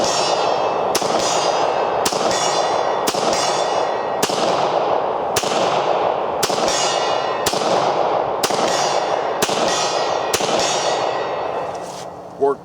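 A Beretta 96 pistol converted to fire 9mm ammunition, shot outdoors: about a dozen loud, sharp reports at a steady, fairly quick pace, each ringing out briefly before the next, ending in quiet.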